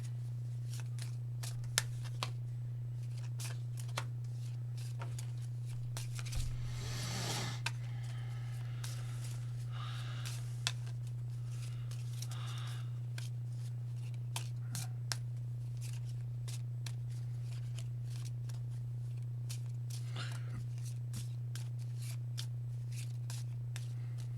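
A Keyforge deck of cards is shuffled by hand: crisp, ticking card snaps and riffles repeat in a steady patter, with a brief louder flurry of shuffling, all over a constant low electrical hum.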